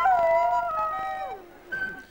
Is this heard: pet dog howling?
yes